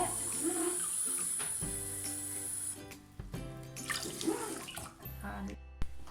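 Water poured into a vessel of raw rice for cooking sushi rice, about one and a half cups of water per cup of rice, gives a steady, full rushing pour close by with a voice partly over it.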